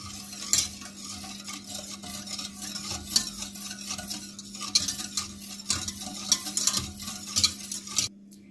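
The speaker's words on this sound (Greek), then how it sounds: "Το χυμό πορτοκαλιού, και ανακατεύουμε μέχρι να ζεσταθεί." Spoon stirring orange juice in a pot as it heats on the stove, with continuous scraping swirls, light clinks against the metal and a faint sizzle underneath.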